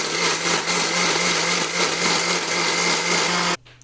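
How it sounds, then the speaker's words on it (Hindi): A kitchen blender whirs steadily, blending dates, almonds and full-fat milk into a shake, a loud continuous motor roar that cuts off abruptly near the end. "मैं अपने ब्लेंडर को बंद करूँगी और मैं इसे ब्लेंड करूँगी"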